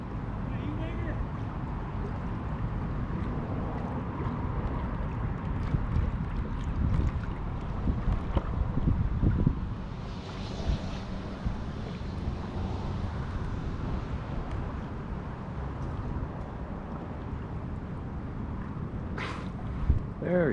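A kayak glides through sea water with a soft, continuous splash and wash, and wind noise runs beneath it, out at sea beside a dolphin.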